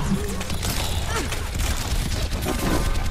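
Steady stream of automatic rifle fire from Soldier 76 in Overwatch, a dense continuous rattle of shots layered over busy game noise throughout.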